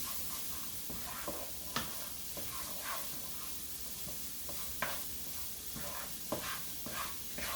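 Peppers cooking in a pan on the stove for a Mexican fiesta casserole give a steady, soft sizzle, broken by occasional clacks and scrapes of stirring. No one speaks over it.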